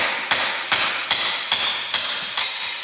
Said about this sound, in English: So you can just use a punch and put it here, and then just gently tap